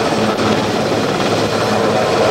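Sikorsky S-65 helicopter with a steady, loud, continuous rotor and engine drone, with no break throughout.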